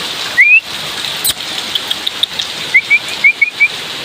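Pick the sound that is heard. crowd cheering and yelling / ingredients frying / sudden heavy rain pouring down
sudden heavy rain pouring down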